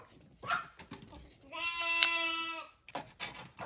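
A lamb bleats once, a wavering, tremulous cry lasting about a second, with soft muffled voices and shuffling before and after.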